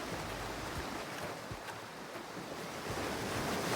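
Surf rolls steadily onto Winnifred beach, a continuous broad wash of breaking waves mixed with wind buffeting the microphone, with no voices.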